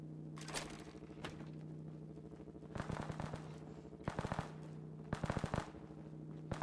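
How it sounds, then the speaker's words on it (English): Bursts of gunfire in Fallout 4, spaced across the clip as distant rapid volleys and single shots, ringing over a steady droning game ambience with no one speaking. "Somebody's shooting over there."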